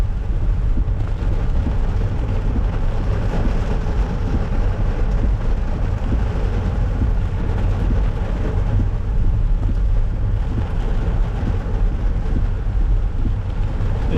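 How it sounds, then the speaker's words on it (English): Heavy rain pours steadily through a night storm in Macau, heard from inside a moving car as a dense, continuous roar that stays loud and unbroken from start to finish, with no voices. "The rain is just pouring off of there."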